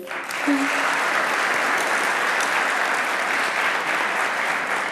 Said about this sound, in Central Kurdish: ئێستا دەمەوێت بە چەپڵەیەکی زۆر گەرم دووبارە بەخێر هاتنەوەی لیژنەی بەڕێز بکەین